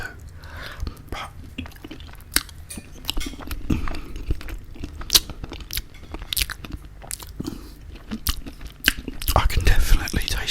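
Jacket potatoes dressed with olive oil and butter are eaten up close, with soft wet chewing, smacking and occasional crunchy bites in an irregular rhythm, some faint breathy mouth sounds between them.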